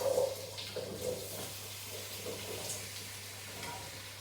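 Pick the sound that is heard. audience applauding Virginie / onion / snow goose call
onion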